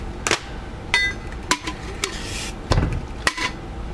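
A game disc is smashed to fit into a blender, producing a series of sharp cracks and clattering knocks, about six irregular hits close up with brief pauses between them.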